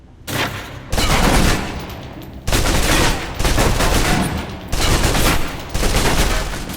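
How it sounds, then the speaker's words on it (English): A submachine gun in the Alpha Protocol video game empties a full magazine in several long bursts of rapid automatic fire, loud and close, with brief pauses between bursts. "Now, let's move on to the submachine gun. Now let's empty the clip."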